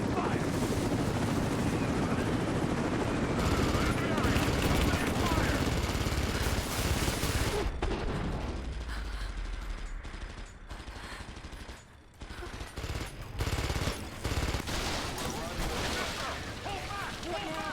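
Heavy gunfire and explosive combat noise from the Rise of the Tomb Raider video game, a dense, loud barrage that runs almost the whole time and eases slightly in the second half with scattered sharp bursts.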